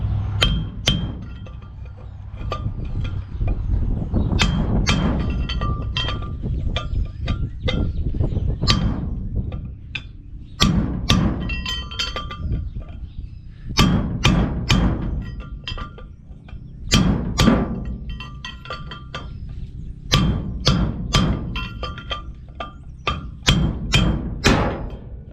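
Hammer blows on a chisel knocking a wheel bearing race out of a hub on a homemade car hauler, sharp metallic clinks in irregular bursts of several whacks separated by pauses.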